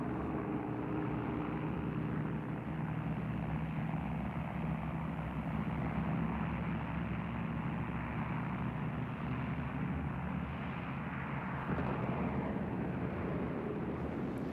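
Droning piston engines of an Avro Lancaster bomber, a dense, steady low roar that holds evenly throughout at a moderate distance, with no talking.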